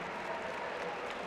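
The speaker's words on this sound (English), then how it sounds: "Give yourselves a round of applause for that." Applause from an audience at a university convocation ceremony at UMaine, a dense, steady wash of clapping hands filling the hall, close and loud throughout.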